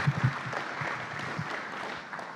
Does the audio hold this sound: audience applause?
yes